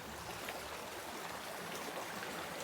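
Flowing stream at a hiking trail water crossing, a steady broadband rush of running water, close and continuous with no voices.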